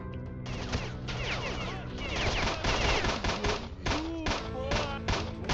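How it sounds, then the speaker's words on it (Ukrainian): Rapid bursts of gunfire in S.T.A.L.K.E.R.: Shadow of Chernobyl crackle almost continuously, with ricochet-like whizzes and thuds, while voices talk over the action. "Я зробив 22 постріла в голову"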